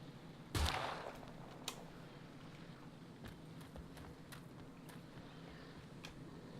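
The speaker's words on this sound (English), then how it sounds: "Robo taking sniper shots from outside" Sniper gunshots in the video game SCUM, one loud sharp crack followed by a few fainter, more distant shots spread out over steady background ambience.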